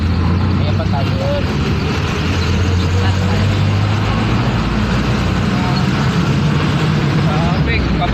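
Continuous rumble of congested road traffic, with cars and buses idling and moving nearby, a dense steady low drone with voices murmuring in the background.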